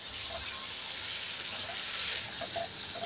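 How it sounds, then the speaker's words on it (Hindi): Whole spices, nutmeg and mace powder, fenugreek seeds, black and green cardamom and dried fenugreek leaves, roasting in a pan for Lahori chickpeas, give a steady soft sizzle and crackle with light stirring throughout. "ये सारी चीज़ें डालकर हम इसे भूनेंगे।"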